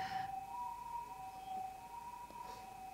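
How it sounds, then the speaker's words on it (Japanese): Siren in the PSP horror game Corpse Party Blood Covered Repeated Fear, a faint, steady wailing tone held in the background under low ambience. "ちょっとサイレンうるさいな。"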